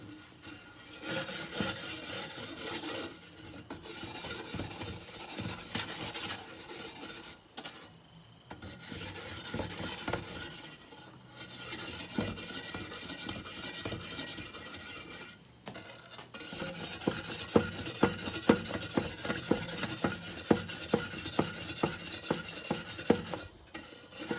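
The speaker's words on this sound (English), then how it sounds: "Make sure you got all this stuff from past cooks off these grill grates." Grill grates being scraped clean of residue from past cooks, a harsh metallic rasping in repeated back-and-forth strokes with short pauses, close and fairly loud with no talking.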